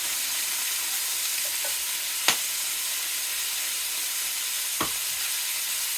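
Pork chops seasoned with salt and pepper browning in a pan, giving a steady broadband sizzle and hiss throughout, with two sharp crackling pops standing out from the frying.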